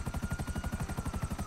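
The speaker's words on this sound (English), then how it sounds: "A Russian helicopter." Russian attack helicopter in Grand Theft Auto V Online, rotor blades chopping in a fast, steady pulsing beat, loud and close, with no voices over it.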